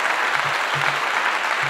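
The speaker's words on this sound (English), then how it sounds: "Golf clap." A brief burst of steady applause, a dense patter of many hands clapping at once, loud and close throughout.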